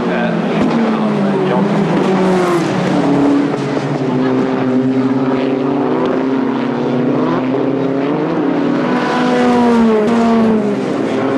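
Sports 2000 race cars battling on track in a 1998 pilot race series, engines whining and shifting pitch as they pass, heard under continuous commentary.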